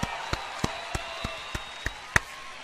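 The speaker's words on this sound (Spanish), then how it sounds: "Ahora sí que vuelve un fuerte aplauso, damas y caballeros." Applause at a freestyle rap battle, heard as isolated, evenly spaced claps, roughly eight moderate hits over a faint steady background hum.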